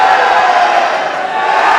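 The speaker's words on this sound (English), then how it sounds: "And now the crowd's voting." A pro wrestling crowd at an indoor show roars steadily, a loud, dense wall of cheering and shouting voices that stays constant throughout without pause.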